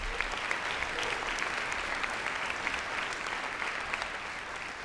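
An audience claps for volunteers at a talk, a steady, dense wash of applause that holds evenly throughout at moderate volume, with a faint voice or two in the crowd.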